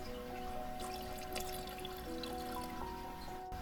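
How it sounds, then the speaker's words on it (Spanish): Water poured into chocolate cake batter already holding eggs and oil, a faint, quiet trickle and gentle splashing heard close up with no talk. "Vamos a agregar el agua también."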